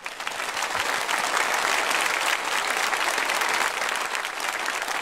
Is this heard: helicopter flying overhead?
no